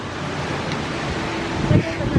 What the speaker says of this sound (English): Ooh, waterfall. Noni, there's a waterfall.